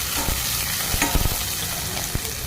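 Green chillies sizzle in hot oil in a pan while being stirred with a spoon for tomato pappu. A constant bright crackle runs throughout, with a few scraping knocks from the stirring, close up and with no voices.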